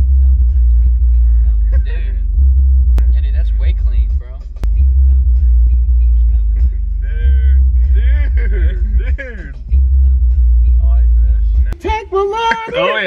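Deep bass booming from a new 2020 Kicker 12-inch subwoofer inside a car, a loud low rumble thumping under music, with people talking over it and excited voices near the end.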